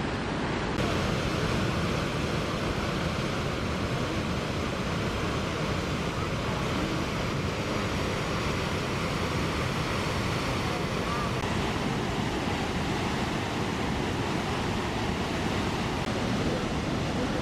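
Constant roaring rush of Los Alerces waterfall in Nahuel Huapi National Park near Bariloche, loud and unbroken throughout, heard up close.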